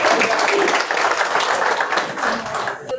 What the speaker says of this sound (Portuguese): Se você puder aplaudir o nome do Senhor, pode aplaudir, porque só Ele.